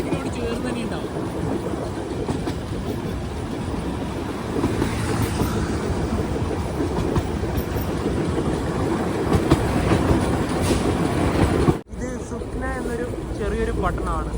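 The Darjeeling Himalayan Railway toy train runs along its narrow-gauge mountain track between New Jalpaiguri and Darjeeling, with a continuous rumble and rhythmic clatter of wheels under voices talking nearby, and a brief dropout near the end.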